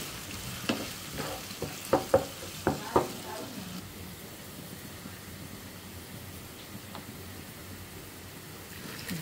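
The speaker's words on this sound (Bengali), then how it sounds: "পেঁয়াজটা আমি লাল লাল করে ভেজে নিব।" Chopped onion frying in hot oil with whole cumin seeds, a steady soft sizzle with a few sharp clinks and scrapes of stirring early on, then an even crackling hiss alone.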